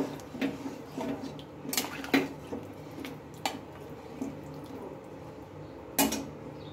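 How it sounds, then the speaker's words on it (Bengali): Pieces of ridge gourd are stirred in a cooking pan, with intermittent sharp clinks and scrapes of a utensil against the metal over a quiet kitchen background. "দেখো, প্রত্যেকটা ঝিঙে কিন্তু আমি এখনই দিয়ে নিচ্ছি। এবার এটা আমি একটু নেড়ে দেব।"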